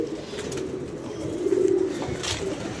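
Pigeons give a low, steady coo that swells slightly in the middle and is set against a soft, continuous background hum. There is no talk.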